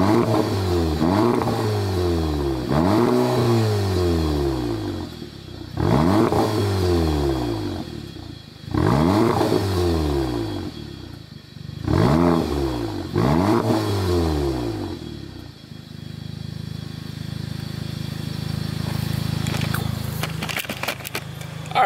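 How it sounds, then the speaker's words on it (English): A car's exhaust revs hard in a run of five or six sharp bursts, each rising and falling back, with gasoline in the tank mixed with poured-in alcohol. After the bursts it settles into a steady idle drone. "Let's go ahead and get an exhaust clip for you real quick."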